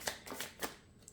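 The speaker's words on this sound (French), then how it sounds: "Je vais tirer d'autres cartes, on va voir un peu." Tarot-style cards drawn from a deck during a card reading, giving a few brief soft papery slides and flicks at a steady pace, close and quiet with no talk.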